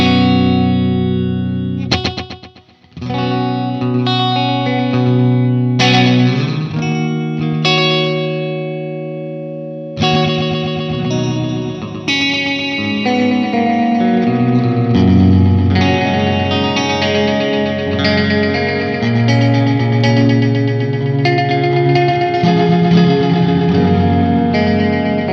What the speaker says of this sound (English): as we turn the depth knob up, we're going to introduce more repeats to our signal